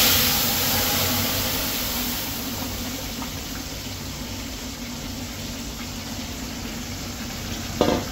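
Chicken with dry chili, bay leaf and whole cumin sizzling in hot oil in a pan, a continuous loud frying hiss with stirring scrapes and a sharp clatter near the end.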